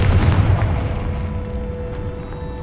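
A Confringo spell blast in the video game Hogwarts Legacy, a heavy booming burst at the onset trailing into a sustained rumbling decay with a faint steady tone underneath.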